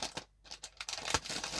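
Scissors snip open a plastic food bag with several crisp cuts and crinkles, close and quick, separated by brief pauses.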